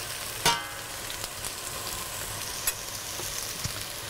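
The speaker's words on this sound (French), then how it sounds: "Là, on va faire réduire le vin blanc quasiment à sec pour que ça repince encore une petite fois." White wine reducing almost to dry in a hot saucepan while making a fish soup gives a soft, steady sizzle with a few sharp pops and clicks, fairly quiet and with no talking.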